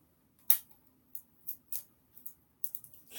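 Cheap adhesive tape pulled and handled in short, sharp bursts: a loud rip near the start, then several quieter tearing and crackling pulls at irregular intervals against near silence.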